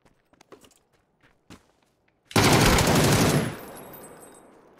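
A shotgun in a video game goes off with one loud, close blast and a decaying tail, after a few quiet clicks and taps.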